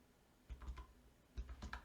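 Two quick bursts of keystrokes on a computer keyboard while entering an Excel formula, soft and close, each a cluster of a few clicks, in a quiet room with no talking.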